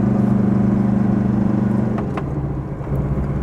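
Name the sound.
car engine, 1.9 litre, driving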